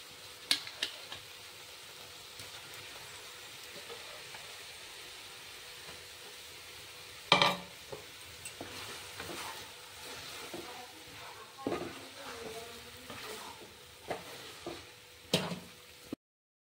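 Soya keema mixture being sautéed in a pan, with a steady low sizzle under scattered scraping clicks of a spoon stirring against the metal and one louder knock partway through, no voices.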